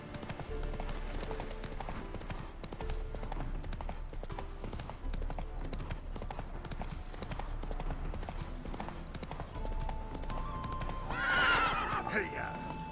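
Roach galloping in The Witcher 3: Wild Hunt in the city of Novigrad, hooves pounding in a fast continuous clip-clop with a loud neigh near the end, over game music and ambience.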